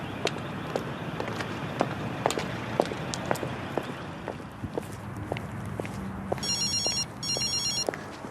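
A telephone bell rings twice in short bursts late in the clip, faint against a backdrop of repeated sharp footsteps and knocks.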